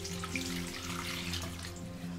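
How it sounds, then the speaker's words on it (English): Water runs from a tap into ingredients for a Naga-style smoked beef and spicy bean salad with baby chilies and organic tomatoes, a steady close pouring and splashing lasting a couple of seconds, faint and alone. "And in here I'm gonna add now water."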